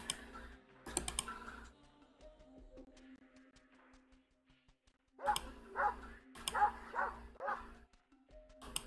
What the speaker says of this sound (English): I hear dog bark.